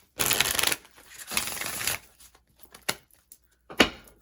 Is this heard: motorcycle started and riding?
no